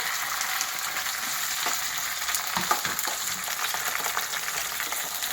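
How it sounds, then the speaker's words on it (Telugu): Green chillies fry in hot oil for a vegetable chutney, a continuous close sizzle and crackle with a few light stirring knocks, with no talk. "పచ్చిమిర్చి వేస్తున్నాను."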